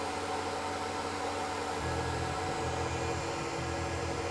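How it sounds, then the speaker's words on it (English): A CNC machine, likely the Tormach, pecks an 8-32 clearance hole at 5140 RPM; a steady, loud whirring hiss runs throughout, with a low hum that shifts in pitch partway through. "This is a 832 clearance hole going at 5140 RPM."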